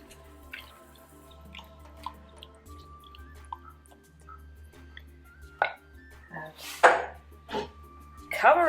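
Soft kitchen sounds of meat dropped into a boiling mixture in a pot for ostrich stew, with wet plops, clinks of a utensil against metal, and a few louder sizzling splashes near the end.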